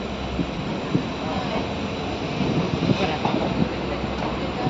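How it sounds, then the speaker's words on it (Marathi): Train running on the Konkan-to-Mumbai route, heard from inside a carriage as a steady rumble with faint rhythmic clatter from the wheels. "फायनली आता 6 वाजता बरोबर ट्रेन सुटली आहे"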